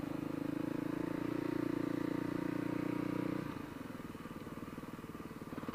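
A 2006 Kawasaki KLX250S dual-sport motorcycle is ridden at an easy pace, its single-cylinder engine droning steadily and then easing off partway through into a lower, chugging idle-like putter, heard close up.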